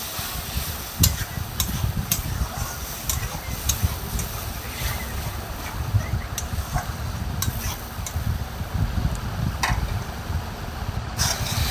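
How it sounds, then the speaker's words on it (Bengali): Small potatoes and grated tomato fry in oil for aloo dum as a utensil stirs them, producing a continuous soft sizzle with occasional sharp clicks and scrapes, close and fairly loud, with no voices. "তারপর টমেটো গ্রেড করা দিয়ে দিলাম, দিয়ে আর একটু কষিয়ে নিলাম।"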